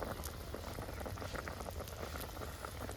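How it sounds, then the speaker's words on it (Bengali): Water at a rolling boil in a cooking pot, a steady dense bubbling and rumbling that stays close and even throughout, with no voices. "তো জলটা ফুটে উঠেছে, তোমরা সবাই দেখতেই পাচ্ছ।"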